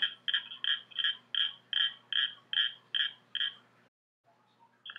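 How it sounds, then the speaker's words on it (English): A Northern Cricket Frog calls alone in a quick series of about ten sharp, clicking notes like tapping marbles, close and clear, then falls silent before one more begins. "The Northern Cricket Frog sounds a lot like marbles tapping together."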